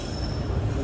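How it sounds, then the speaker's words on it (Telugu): A moving train on the Tirupati to Villupuram line slows near Walur station, its wheels and carriages giving a steady low rumble with a faint squeal running close and continuous. "ఏంటి స్లో అవుతుంది బండి"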